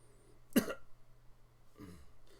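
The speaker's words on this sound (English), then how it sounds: "Like I start coughing." A single sharp cough in a quiet room, followed a second later by a softer second cough or throat clearing, with faint low hum underneath.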